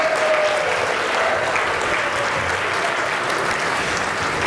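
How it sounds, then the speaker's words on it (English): Sustained applause from a crowd at a political convention dinner honoring a senator, a dense steady clapping that stays loud and even throughout with no talk over it. "Give him a round of applause."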